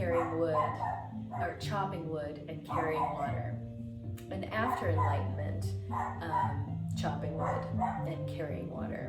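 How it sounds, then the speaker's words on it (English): A dog barks and yips repeatedly in the background while someone talks steadily over it, the barking mostly masked by his voice. "Sorry about the dog."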